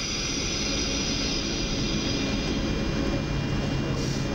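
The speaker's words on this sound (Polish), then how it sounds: "I ten dźwięk mówi nam jedno, pociąg rusza." A Koleje Mazowieckie push-pull double-deck train pulls away from the platform, giving a loud, steady electric drone with a faint whine that holds evenly throughout.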